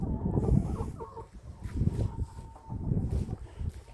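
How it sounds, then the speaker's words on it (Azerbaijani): Chickens at a backyard coop of a house in Hövsan give soft, scattered clucks and calls, fairly faint, over low yard background noise. "Burada isə toyuq-cüzə saxlamaq üçün hin"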